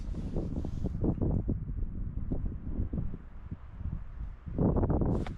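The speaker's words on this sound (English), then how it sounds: "it's snowing, it's too windy" Strong wind gusts across a snowy cliff edge, a steady, heavy low rumble buffeting the microphone throughout, with a brief lull before it surges again near the end.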